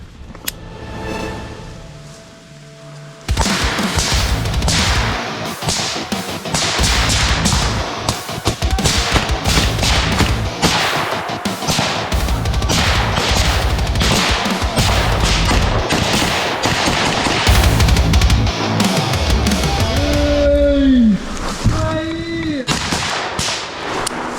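Dense, rapid gunfire crackles almost continuously at close range during combat, loud bursts overlapping, with shouted voices near the end.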